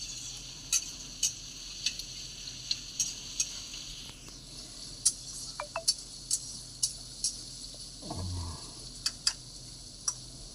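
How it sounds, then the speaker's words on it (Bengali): Onions fry in a pan with a pinch of salt and sugar, a steady soft sizzle punctuated by regular sharp taps of a spatula, and a brief louder scrape near the end. "লাল লাল করে পেঁয়াজটা ভেজে তুলি।"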